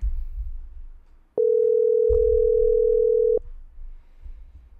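A single steady electronic ringback tone sounds for about two seconds over faint background noise while an outgoing phone call waits to be answered.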